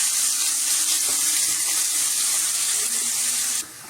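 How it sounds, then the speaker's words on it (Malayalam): Sliced onions drop into hot oil for a Kerala chicken perattu, giving a steady, loud, close sizzle and hiss that continues without a break and eases off just before the end. "എണ്ണ ചൂടായി വരുമ്പോഴത്തേക്ക് അരിഞ്ഞു വെച്ചിരിക്കുന്ന സവാള ഇതിലേക്ക് ഇടുക"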